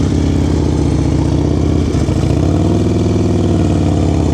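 A motorcycle engine held under steady throttle preload during a riding lesson, loud and close, a continuous throbbing mid-range drone with a slight dip and rise in pitch partway through.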